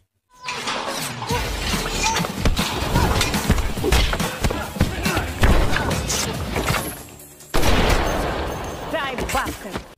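Gunfire in an Indonesian action film, loud and close: a dense burst of sharp shots and impacts with clattering crashes over about seven seconds, a brief drop to near silence, then another loud burst.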